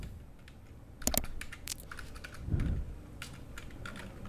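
Keys clatter on a computer keyboard while entering a formula in an Excel spreadsheet, with a burst of quick taps near the start, a dull thump in the middle and scattered lighter keystrokes after it, close and fairly quiet.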